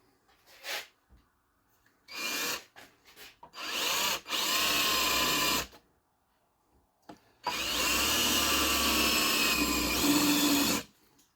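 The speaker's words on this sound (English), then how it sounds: "Drill down the center of the threaded area." Power drill boring down the center of the threaded area of a Jeep JK side mirror, running in three loud sustained bursts of a few seconds each, with short pauses between them and no talk.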